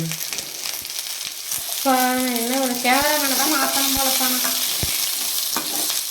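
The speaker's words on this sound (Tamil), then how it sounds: "கடுகு கடுகு கடலப்பருப்பு நல்லா வந்து அப்புறம் கருவேப்பிலை வெங்காயம் ரெண்டு சேர்த்துருக்கேன்" Mustard seeds, chana dal, curry leaves and onion fry in a pan with a steady close sizzle and occasional stirring scrapes, while a voice talks over the cooking partway through.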